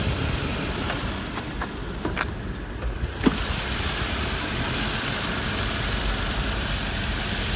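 The 2.7-liter VVTi petrol engine of a 2014 Toyota Land Cruiser Prado runs steadily at idle, heard close up with a smooth, even hum. A few faint clicks and one brief thump break the drone.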